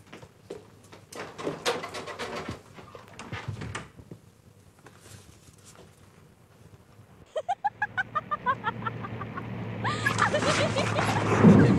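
A hen is caught on a farm in a 1984 Polish comedy. Voices and knocks come first, then rhythmic clucking builds into loud, flustered squawking and flapping close by.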